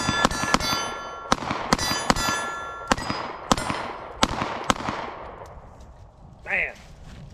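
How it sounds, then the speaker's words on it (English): A string of about a dozen sharp pistol shots from a Glock carry pistol, loud and close with ringing tails, irregularly spaced and slowing toward the end, followed by a short faint tone. "So let's load it up and take a few shots."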